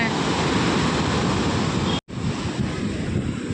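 Sea waves surge continuously onto the shore in a loud, roaring wash with strong wind buffeting the microphone, broken by one brief dropout.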